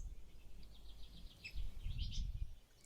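Ambient birdsong in a video game, a series of soft repeated chirps running through the clip beneath a low background rumble, with faint game effects near the end.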